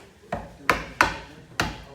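Mallet blows on a chisel while cutting a wooden tenon joint: four sharp, close knocks spaced unevenly over two seconds, each ringing briefly before fading, with no speech.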